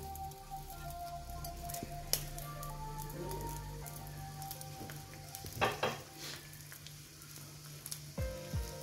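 Tempering spices sizzle and crackle in hot oil for toor dal chutney, a steady low frying hiss with occasional sharper pops and stirring scrapes, fairly quiet and without talk.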